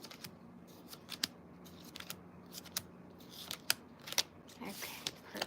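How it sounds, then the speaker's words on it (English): A deck of cards is shuffled by hand, giving sharp, irregular riffles and snaps at moderate volume, with faint background murmur. "let me shuffle this deck."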